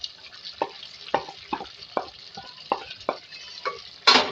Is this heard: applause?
no